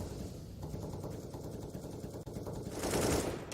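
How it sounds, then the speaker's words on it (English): Rapid bursts of automatic gunfire from CS:GO on the Dust2 map during a pro match, dense and continuous with a louder swell near the end. "Bullets being spammed"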